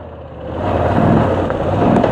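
Motorcycle engine running in second gear on a warm day, a steady close rumble that swells slightly as it pulls, heard alone.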